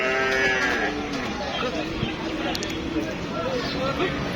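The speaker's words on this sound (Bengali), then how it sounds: "দেখুন ওই যে আর একটা গরু নিয়ে আসা হচ্ছে" Cattle low repeatedly amid a noisy crowd at the Deohata cattle market, with people talking throughout and a busy market din in the background.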